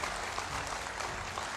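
Applause from an audience at a government department event, welcoming a chief minister on stage; dense, steady clapping that fills the whole short stretch at moderate level, with no voices over it.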